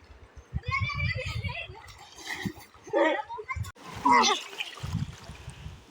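Water splashes from people swimming in clear village water, with several bursts of splashing and churning close by, mixed with children's voices and people talking throughout.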